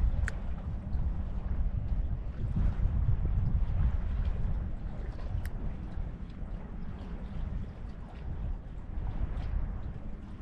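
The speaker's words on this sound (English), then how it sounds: "It's a little windy, I wish it wasn't as windy." Wind buffets a small fishing boat out on the water, a steady low rumble of gusts against the microphone with faint splashes and creaks, and no voices.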